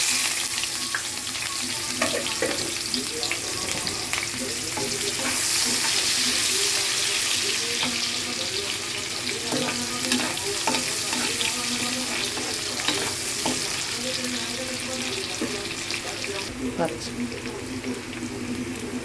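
Onions dropped into hot oil for a korrameenu fish curry, a steady sizzle and crackle with stirring and clinking of utensils against the pan, persisting close up, with a voice talking intermittently.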